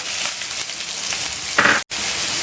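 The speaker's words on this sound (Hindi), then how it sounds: "अब हम इसमें चॉप्ड अनियन को ऐड कर देंगे।" Chopped onions frying in hot oil with a bay leaf and cardamom, a steady close sizzle throughout that swells briefly when stirred, then cuts out for a moment before resuming.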